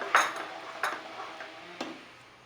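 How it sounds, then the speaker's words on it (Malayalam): A spoon scrapes and taps against a pan while rava kesari with sugar is stirred, giving a few separate clinks and scrapes over a faint background, with no talking. "ഈ ഷുഗർ തന്നെ അതിൽ മെൽറ്റായി തുടങ്ങും കട്ട കിട്ടാതെ ഇതുപോലെ ഇളക്കി കൊടുക്കണം"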